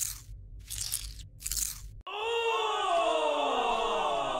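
A video game character bites and chews crunchy food in several loud, close crunching bursts, followed by a sudden harsh shriek-like sound that sweeps downward and sustains to the end.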